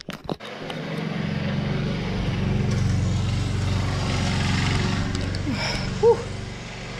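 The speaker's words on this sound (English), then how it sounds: "You can hear the lawnmower outside." A lawnmower drones steadily outside, a continuous low engine rumble that runs throughout at moderate distance, with a faint voice and a couple of brief knocks near the end.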